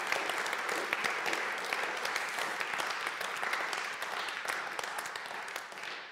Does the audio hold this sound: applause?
yes